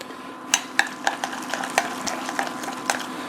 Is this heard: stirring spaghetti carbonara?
yes